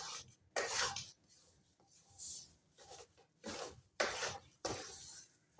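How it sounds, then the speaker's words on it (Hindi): A spoon stirs moong dal for panjiri in a pan, making repeated scraping and rubbing strokes in uneven bursts, faint and close, with no voices. "आपने इस चम्मच जो है ना चलाते जाना है, चम्मच रोकना नहीं है"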